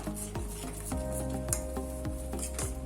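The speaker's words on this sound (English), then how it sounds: "Just go on stirring it with this type of spatula" A spatula stirs a thickening mixture in a pan on the heat, giving steady scraping and soft sizzling with light clinks of the utensil against the pan, close and continuous.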